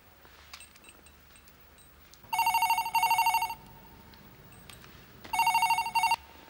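Telephone ringing loudly in two double-ring bursts with a pause between, indoors with faint background sounds and no talking over it.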